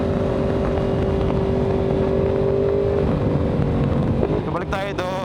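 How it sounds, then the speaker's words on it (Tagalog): A Yamaha R1 motorcycle engine winds down loudly under engine braking, its pitch dropping, then wind and rumble take over near the end. "Talagang malakas tong engine brake itong motor na to"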